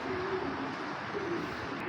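Indian Sharjanpuri pigeons coo in low, soft repeated phrases, close by and steady over a continuous background of rustling and hiss.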